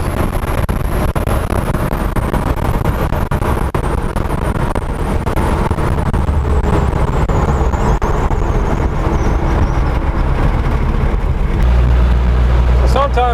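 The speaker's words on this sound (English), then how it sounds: "I just like taking the Jeep out and going for a drive" A Jeep CJ7 fitted with an OM617 turbo diesel, a Holset HX30 turbo and a Dieselmeken pump drives along with a loud, steady engine and road rumble, a rising whine over it and someone talking throughout.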